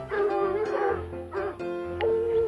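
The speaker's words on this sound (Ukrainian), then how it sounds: "Собаки почули ведмедя і почали гавкати." Dogs barking repeatedly in quick bursts, close and loud, with a few whiny yips mixed in.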